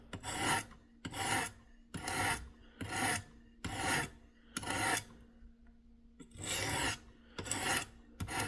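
Rhythmic rasping strokes of a knife blade drawn across the abrasive of a Work Sharp Professional Precision Adjust sharpener, about nine even passes with brief gaps between them, close and clear with no voices.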